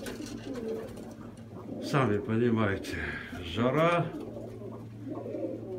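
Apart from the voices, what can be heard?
pigeons cooing in a pigeon loft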